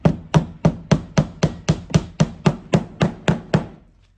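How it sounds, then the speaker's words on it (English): Fourteen evenly spaced hammer blows strike nails flat into the heel of a vintage Scottish ghillie brogue during a shoe repair, each a crisp, close knock with a quick decay, steady in rhythm. "They sit dead flat and we're hammering them dead flat"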